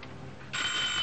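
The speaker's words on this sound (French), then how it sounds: "C'est un appel sur votre poste." A telephone starts ringing for an incoming call at a desk extension in an office setting, a bright electronic ring rising abruptly halfway through and holding steady, close and fairly loud with no talk over it.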